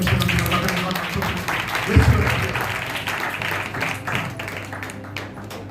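Applause from a church congregation at a sermon gathering: dense, steady clapping, fairly loud and continuous, mixed with a voice speaking over it, with a brief louder burst near the middle.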